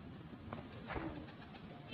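A breeder's pigeons at a pigeon club coo softly, including a numbered blue pigeon. Low, rolling coos repeat a few times, quiet and close, under a faint background hum.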